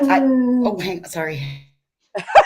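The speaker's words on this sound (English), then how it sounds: "That was the dog." A dog howls in long, wavering, tonal cries that slide downward, then falls silent before a person speaks briefly close by.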